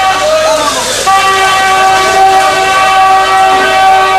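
Vehicle horns blare on a crowded Israeli market street, a sustained tonal honk holding steady for several seconds over a dense, loud background bustle.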